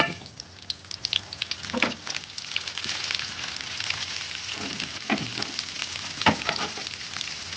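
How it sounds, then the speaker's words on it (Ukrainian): A chunk of butter melting in a preheated pan for kharcho, a steady close crackling sizzle with scattered sharp pops and a few louder spits, no talking. "Чка наша вже прогрілась, даємо ось такий шмат вершкового масла."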